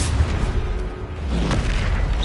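Bombarda spell explosions from Hogwarts Legacy on PS5, a loud sustained booming blast with rumbling low end and crackling debris, dense and continuous through the whole moment with no voices.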